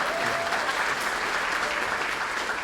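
Audience at a music college audition session claps on cue for a mock audition, a dense, even burst of applause from a roomful of people that holds steady throughout.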